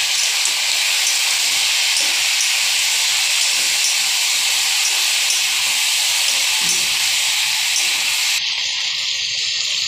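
Ground spice paste of turmeric, ginger, garlic, cumin and garam masala sizzles loudly and steadily as it fries in a pan, a continuous hiss that cuts off near the end.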